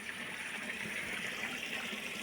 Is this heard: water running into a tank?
yes